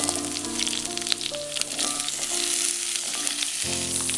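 Gooseberries frying in hot oil with garlic, ginger and chili for a Kerala pickle, a steady close sizzle with occasional stirring clinks.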